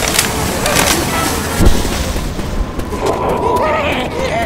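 Gunfire in a shooter video game, repeated booming shots and crackling bursts amid battle noise while voices call out in the middle of the action.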